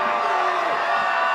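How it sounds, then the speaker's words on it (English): A large crowd cheers and whoops at Gov. Walker's victory speech, a dense, steady roar of many voices heard up close for a brief moment. "What a crowd."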